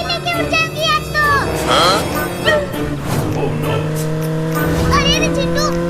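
A motorbike is being ridden, its engine giving a steady tonal drone with shifting revs beneath excited overlapping voices of adults and a child.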